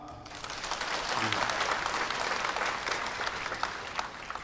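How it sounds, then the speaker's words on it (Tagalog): A church congregation bursts into applause during a Simbang Gabi Mass, the clapping swelling quickly to a full, sustained round that stays strong before easing slightly toward the end. "O yung mga magbubuo ng simbang gabi, palakpak."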